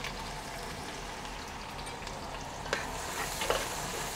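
Onion frying in a pan for Malvani crab masala, a steady moderate sizzle with a couple of sharp stirring clinks near the end.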